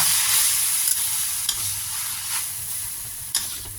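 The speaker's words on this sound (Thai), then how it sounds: "โอเคผัดเลยจ้า" Kale stir-fried with canned fish and soy sauce in a pan, a steady close sizzle with occasional light scrapes of stirring, heard alone without talk.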